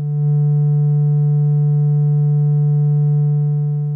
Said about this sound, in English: Starting with a wavefolder or timbre control all the way down, we can see and hear a simple sine wave.